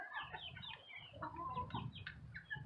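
Backyard hens clucking and murmuring softly nearby, a quiet run of short overlapping calls.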